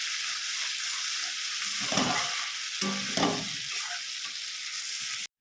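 Water poured into a pan of sizzling red fish curry on the stove: loud, continuous hissing and frying with a few bubbling surges as the liquid hits the hot pan, then it cuts off abruptly.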